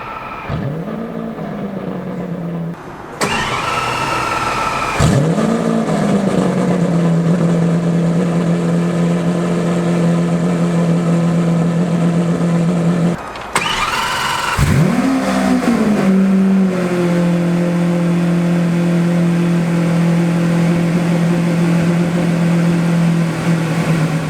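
A 2017 Lamborghini Aventador SV engine cranks from its starter button and fires up with a loud roar, then settles into a steady idle; after a pause it's started again with another sharp rev before idling.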